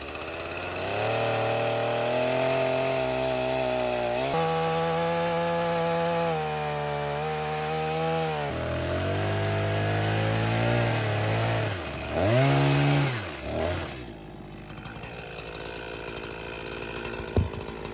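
A chainsaw with a dull 20-inch chain carves a log into a snapping turtle, engine loud and close with revving rises and dips as it cuts, then easing back toward idle near the end.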